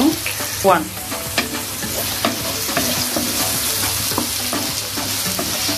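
Onion and garlic fry in hot oil for a catla fish curry. A loud, constant sizzle is broken by repeated scraping and clinking strokes of a spoon stirring the pan up close, with no one talking.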